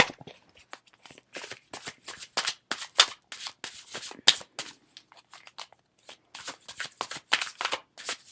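Tarot cards from the Lover's Path deck are shuffled and pulled, close and crisp, in a long run of quick riffling bursts and flicks with brief pauses between them.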